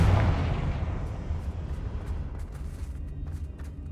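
A Confringo fire spell goes off in Hogwarts Legacy as a single loud booming blast at the start, then a long rumbling tail fades out across the following seconds, with no talk.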